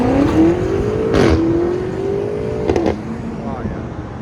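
A BMW M5 4.4L twin-turbo V8 with a Dinan cat-back exhaust and resonator delete roars as it revs and accelerates away, engine pitch climbing then shifting through gears, with brief voices in the background.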